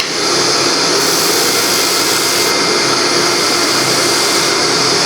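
Sandpaper presses against a wooden bowl spinning on a lathe, producing a loud, steady whooshing roar of motor and abrasive friction that holds evenly throughout, close up with no talking.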